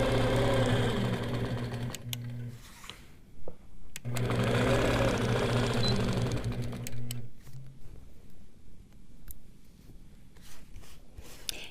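Quilting sewing machine stitching along a straight ruler on a Churn Dash quilt block, heard as a loud, close, steady motor whir in two long runs separated by a pause, then quieter handling taps and clicks.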